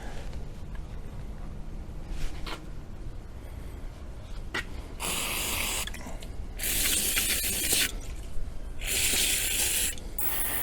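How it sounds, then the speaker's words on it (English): Brake cleaner sprays in bursts onto outboard carburetor parts and plastic pieces from a Force 120 HP outboard: a faint hiss near the start, then three long, loud aerosol blasts close by, with no talk. "I guess I can rinse it with brake cleaner, get the carb stuff off of it."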